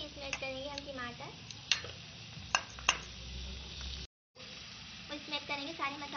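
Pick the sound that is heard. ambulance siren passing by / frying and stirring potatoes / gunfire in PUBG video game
frying and stirring potatoes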